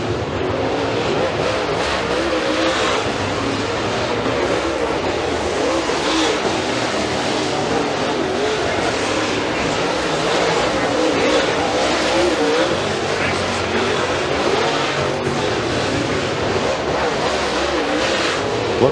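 Super late model race cars racing on an open dirt track at Freedom Motorsports Park, a dense continuous roar of several engines revving and passing, loud and sustained with occasional tire noise.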